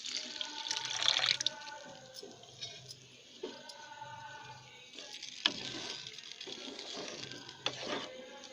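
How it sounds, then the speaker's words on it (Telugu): Gram flour mixed with water is poured into a pan of grated carrot chutney, giving quiet, uneven splashing and sloshing bursts with pauses between them and a few faint clinks. "ఇప్పుడు వీటిలో ముందుగా రెడీ చేసి పెట్టుకున్న శనగపిండి వాటర్ పోసుకుందాం."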